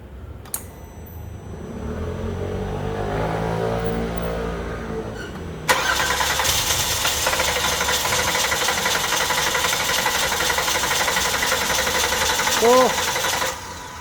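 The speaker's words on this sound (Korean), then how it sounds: "크리킹 한번 해보도록 하겠습니다. 시동 걸고" Kia K7 3.0 LPI engine cranking over without catching after stalling while driving, a steady whirring starter drone close by that follows a quieter stretch, with brief talk.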